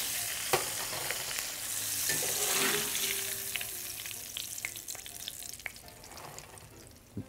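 Oysters and catfish deep fry in hot oil in a Creole kitchen, giving a close, steady crackling sizzle with scattered pops and stirring clinks, no voices.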